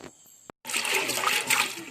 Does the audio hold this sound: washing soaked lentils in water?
yes